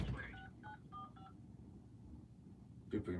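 Several short telephone keypad tones beep in a quick cluster while voicemail is being checked, fairly faint, over background murmur and a brief voice near the end.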